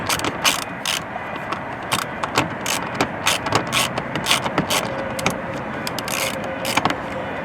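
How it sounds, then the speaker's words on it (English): Socket ratchet backing out 7mm bolts on a 2022-2024 Ford Expedition, a run of quick, close clicking bursts with brief pauses over a steady background hum. "They have a 7mm head on them, so we're going to go ahead and use a socket"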